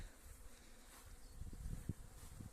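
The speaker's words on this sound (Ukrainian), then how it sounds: "Ось так бджола кажу, гуде, працює" Steady insect buzzing fills the clip, a dense hum of many honeybees at the hive with a few louder low thumps and bumps close to the microphone.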